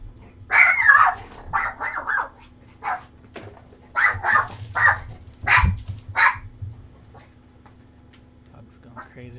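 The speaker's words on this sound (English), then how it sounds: "Dog's going crazy." A dog barks in bursts, a handful of sharp barks and yips in uneven clusters, fairly close and loud against a quiet room with a low steady hum.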